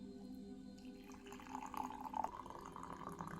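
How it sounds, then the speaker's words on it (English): Coffee pouring into a cup, a steady close liquid trickle that rises slightly in pitch as the cup fills, heard alone with no talk. "I want you to witness the pouring."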